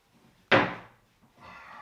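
A bathroom cabinet door closes with one sharp wooden knock, then a softer rustle follows as the door moves again; quiet and close, with no talk.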